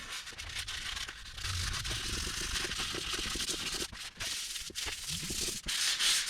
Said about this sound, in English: Going to fold my sandpaper over, kind of hit all the little bays and areas that need a little touch up